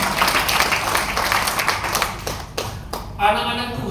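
A congregation at a church worship service claps together, a busy burst of hands that thins out and fades, followed by a voice speaking near the end.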